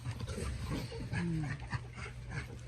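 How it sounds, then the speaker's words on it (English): Several puppies whimpering and yipping close by, with short high whines rising over a steady low background hum. "These are some of my puppies."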